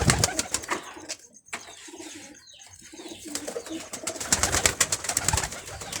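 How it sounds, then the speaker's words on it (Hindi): Pigeons of various breeds coo in low, rolling calls close by, with bursts of wing flapping and scuffling in between, mostly without talk. "और बहुत ही क्वालिटियों में ये कबूतर है भाईजान, ये सब नस्ल वाइज है।"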